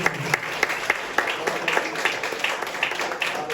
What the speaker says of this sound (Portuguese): Aplauda ao Senhor neste momento.